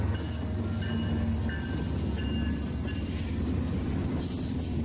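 A BNSF freight train passes at a steady rumble, with a continuous loud roar, faint wheel squeals and rail clatter, and no voices.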